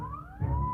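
A police siren wails briefly in an old radio drama, one rising then falling tone heard alone, with a low rumble swelling under it.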